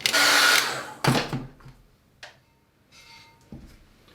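A hair dryer blows loudly on a wet watercolour painting, running for about a second, cutting out, then a short second burst, followed by a few faint clicks and handling noises.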